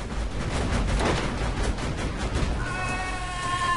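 Dense rapid gunfire in the video game Borderlands 2, loud and continuous, with a tonal electronic whine rising near the end.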